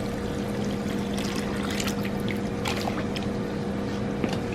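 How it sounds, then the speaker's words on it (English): Whey pours through a cheesecloth-lined colander as the curds separate, making a continuous liquid trickle and splash over a steady low hum, with a few sharper drips. "we are going to take the whey, separating the curds from the whey"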